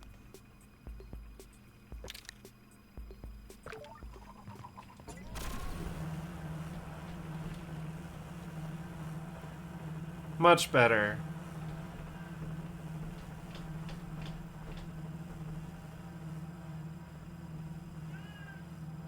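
A customized hoverbike engine in the game Sable sets up a steady low buzz that starts a few seconds in and continues, with a brief louder squeal midway and someone briefly speaking.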